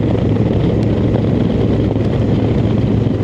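A 2024 Honda Africa Twin DCT adventure motorcycle cruises on the Thruway near Buffalo, its steady engine drone blended with loud, constant wind rush and road roar, with no voices over it.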